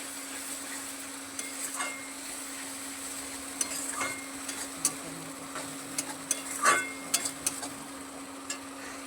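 Soft stir-frying of masala with onion, tomato and chilli in a pan, with intermittent scrapes and clinks of a spoon against metal over a steady low hum, no one speaking.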